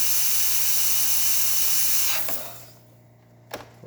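A loud, steady hiss of steam jetting from the wand of a Breville Oracle Touch espresso machine, then cut off abruptly, leaving quiet with a brief clunk after.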